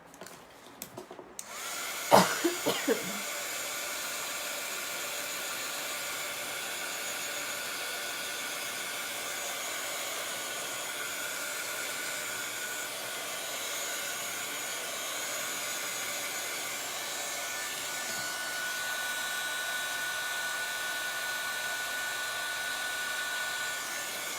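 A hair dryer blows on Chalk Couture chalk paste, starting with a few handling clicks and then holding one steady, moderate whooshing hum for over twenty seconds.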